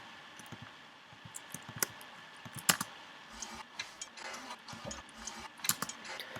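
Layered foley percussion from a Monty Booker kit with the shaker removed: sparse, dry clicks and small tapping hits in a loose rhythm, fairly quiet and close, no talking.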